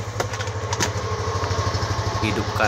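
A motorcycle engine idles with a steady, close, low throb while charging its weak battery, and someone talks over it.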